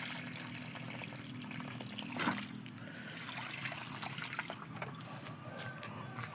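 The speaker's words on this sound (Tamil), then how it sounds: "செடிகளுக்கு மரக்கன்றுகளும் தண்ணி ஊற்றியாச்சு" Water trickles and splashes steadily as it is poured over plants and saplings, a soft continuous outdoor wash with a few brief spattering bursts.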